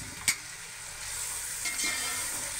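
Vegetables with vinegar, chili sauce and macaroni are stirred in a sizzling pan. A single sharp scrape of the spoon sounds early, then a soft continuous frying hiss carries the rest, close and without talk.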